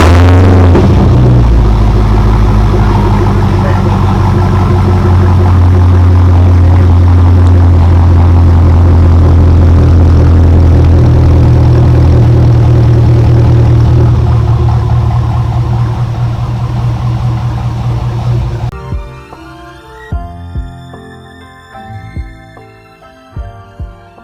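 Modded 2006 Pontiac GTO, an Australian-built Holden Monaro with an American V8, roaring loud and steady at close range for most of the run before fading, as the engine sound gives way to other sounds near the end.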